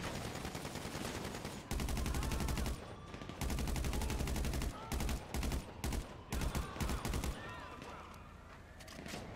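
GTA V Online gunfire in a firefight: rapid automatic bursts alternate with clusters of sharp shots, loud and close, stopping and starting in quick volleys, with someone talking at moments between them.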